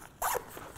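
A single quick zip on a Haley Strategic backpack's expansion zipper, one short close rasp lasting under a second.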